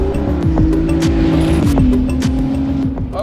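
An 830 hp Ferrari 296 GTB runs flat out down the main straight of a race circuit, its engine note loud and close with a steady, rising tone and a brief shift.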